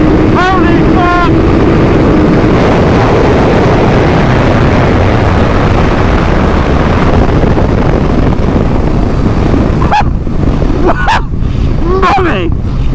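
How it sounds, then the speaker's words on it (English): A Suzuki Hayabusa motorcycle engine at full throttle during a drag race gives a loud, sustained roar with wind buffeting throughout, and a few sharp rising revs or gear-change bursts stand out toward the end. "So that is full power. Throttle body's wide open."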